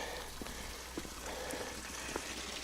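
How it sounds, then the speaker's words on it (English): Steady rain falls in a soft, even hiss in a dense forest on the Clingmans Dome hike, with scattered drops tapping nearby and no voices. "So much rain here."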